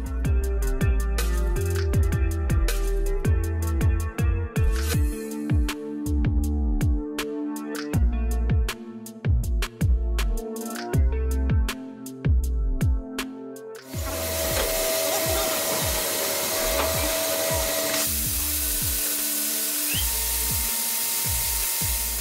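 A CNC gear hobbing machine works in a factory, first with rapid rhythmic metallic cutting clicks over a humming drive, then settling into a steady loud whine and hiss.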